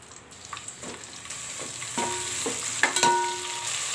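Brinjal pieces drop into a hot pan with curry leaves while making thuvaram paruppu sambar, giving a steady close sizzle broken by several sharp spattering pops and stirring clinks, with no voices.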